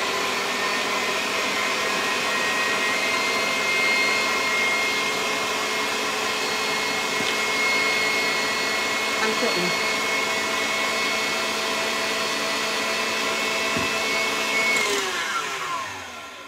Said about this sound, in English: I have already beat this egg whites for probably 2 minutes at least